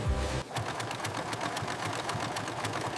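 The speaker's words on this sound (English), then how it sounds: "Heavy-duty chain stitching provides the structural integrity needed for workwear." Industrial sewing machine running heavy-duty chain stitching on denim jeans in a factory: a fast, even mechanical chatter that starts after a brief louder rumble, close and steady throughout, with no talking.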